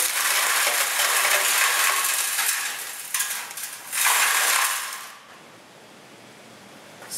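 An aggregate sample poured into a quartering splitter for sieve analysis gives a loud, dense rattling rush of stones through metal chutes for about five seconds, with a brief pause and a second burst, then quiet.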